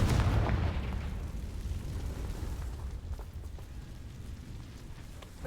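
Explosive blast from the Confringo fire spell in Hogwarts Legacy, a loud booming burst at the start that rolls off into a long, decaying rumble with no talking.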